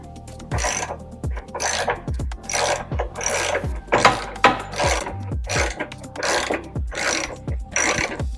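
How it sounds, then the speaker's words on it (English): A ratchet with a deep socket works the 10 mm battery hold-down bolt on a Toyota Tacoma, giving steady repeated bursts of close, crisp clicking and grinding with brief pauses between strokes, no voices. "And we might need a deep socket for that"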